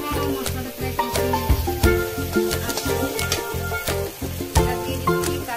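Spice paste for prawn malai curry cooks down in oil with a bright, continuous sizzle, punctuated by rhythmic stirring strokes over a steady tonal hum.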